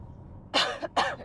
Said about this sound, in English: Sorry for the coughing, viewers.